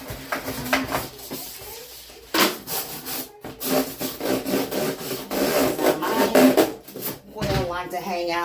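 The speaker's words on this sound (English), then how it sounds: "You just scrape it out of that corner and it'll come right out." Debris is scraped out of the corner of a quail brooder in a run of repeated rough scraping and rubbing strokes, close and fairly loud, with brief pauses between them.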